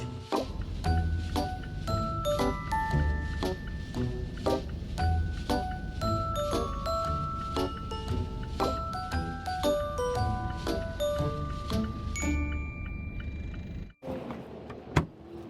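Someone climbs into a car out of the cold while on a delivery run in Canada. A steady chime repeats throughout with a low cabin rumble, then a door shuts with a solid thud near the end. No one speaks.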